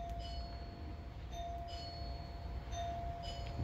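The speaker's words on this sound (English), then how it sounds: "Doorbell works." A faint, thin electronic chime from a newly wired doorbell rings a few times at a steady pace over a low background hum.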